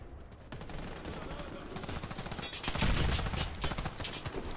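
Rapid gunfire in the video game Warface crackles in dense continuous bursts, loud and close, with a voice talking underneath.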